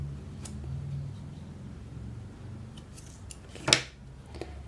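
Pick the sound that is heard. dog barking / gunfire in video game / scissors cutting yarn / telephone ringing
scissors cutting yarn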